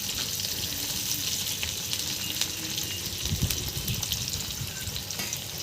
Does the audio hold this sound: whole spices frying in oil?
yes